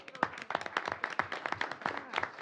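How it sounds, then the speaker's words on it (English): Hands clap in a round of applause at a city council meeting, a quiet, uneven patter of claps heard alone at moderate distance. "We'll give her a round of applause."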